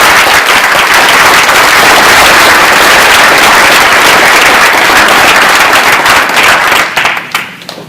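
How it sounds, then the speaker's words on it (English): Loud, dense applause from a seated audience at a data journalism meetup, steady sustained clapping that fills the room and then begins to thin and fade near the end. "let's give them a big round of applause"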